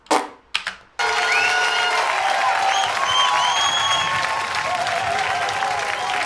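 An audience bursts into loud, sustained applause after a brief moment of quieter sound, the dense clapping holding steady to the end.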